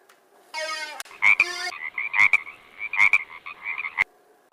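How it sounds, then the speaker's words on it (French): A frog croaking sound effect: a rapid rattling croak, then a series of shorter, higher croaks and chirps in uneven bursts, loud and close against silence. "je vais faire apparaître une grenouille"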